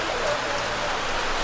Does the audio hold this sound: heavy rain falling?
yes